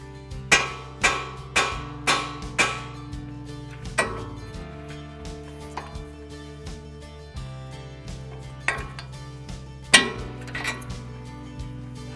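Sharp metallic hammer blows ring out against a tie rod end on a Ford Ranger during coilover suspension work, a quick run of about five strikes, then slower scattered hits with ringing decay, close and loud.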